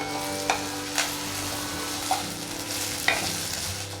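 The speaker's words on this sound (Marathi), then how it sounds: "इथे आपण कांदा मिरची आणि लसूण हे छान असं भाजून घेतलेलं आहे" Onion, green chili and garlic sizzle in a pan as chutney is cooked, a constant loud frying hiss. A few distinct scrapes of stirring break through at intervals, with no voice.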